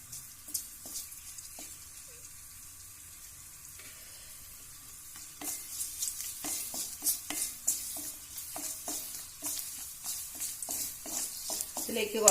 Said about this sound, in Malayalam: കശുവണ്ടി ഇട്ട് കൊടുക്കാം. കശുവണ്ടി ഒന്ന് മൂത്ത് വരട്ടെ.